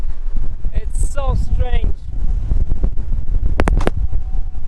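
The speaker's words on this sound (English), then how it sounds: "You can hear this howling of the wind." Strong wind on the coast of Fraser Island buffets the microphone in a constant low roar while a person speaks briefly over it.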